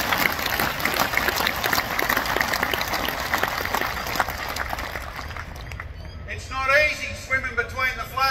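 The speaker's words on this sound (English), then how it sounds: "Can you all give them a round of applause, please?" A crowd at a CFMEU union rally applauding its organisers: sustained clapping and cheering that fades after about five seconds, followed by someone speaking.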